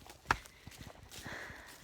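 A horse's hooves clip-clop softly outdoors, one sharper knock followed by a few faint, uneven hoof steps, quiet and somewhat distant with no talking.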